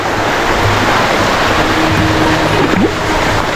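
Bugsok Falls in Camarines Sur pours down as a steady, dense roar of rushing water, constant and fairly loud throughout with no voices.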